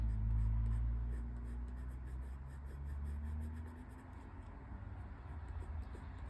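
A pen outlines shapes in black on a colouring page, giving a steady, close, dry scratching of continuous strokes with no voices.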